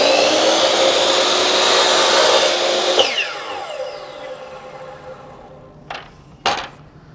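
A miter saw switched on in a workshop, its motor running as a loud steady whine that cuts out and winds down after about three seconds, followed by two sharp knocks near the end.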